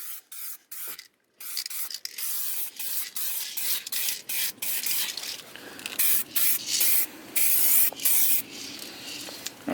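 Repeated bursts of spray paint laying a base coat over repaired rust on a car, short hissing blasts broken by brief pauses, close and fairly loud with no talking.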